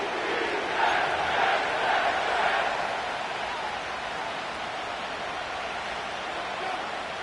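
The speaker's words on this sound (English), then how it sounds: "The crowd is definitely ready." Stadium crowd noise in an EA Sports football game at MetLife Stadium, a steady broad roar that swells slightly early and then holds at a moderate level, with no one talking over it.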